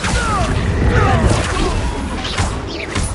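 Confringo blasting spells explode repeatedly in Hogwarts Legacy combat, dense booms and crashes with whooshing casts layered over a loud, busy game soundscape, with a voice calling out spells.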